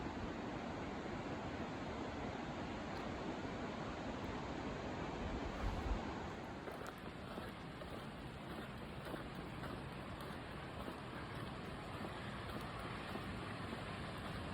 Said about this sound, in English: I hear that river down there.